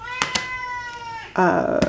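A cat meows for food with one long, drawn-out meow followed by a sharper, louder cry, close by, with a few soft knocks around it.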